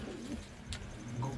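Pigeons cooing at a rooftop pigeon loft, a faint brief low coo under quiet outdoor background noise.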